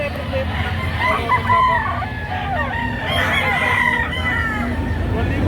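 Several roosters crow in overlapping calls amid the busy din of a Saturday poultry market in Lipa City, Batangas, with steady crowd noise and murmuring beneath.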